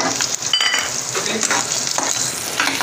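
Potatoes frying in hot oil in a pan for a Navratri recipe give a loud, steady sizzle close up, broken by scraping stirs.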